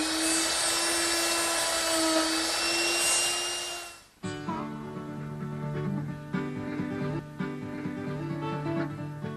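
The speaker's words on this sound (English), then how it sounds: "I'm going to use this 1/4-inch Roman ogee bit" A router fitted with a 1/4-inch Roman ogee bit cuts wood in a heavy pass, a loud high whine that holds steady, then cuts off abruptly and gives way to lower droning machine hum.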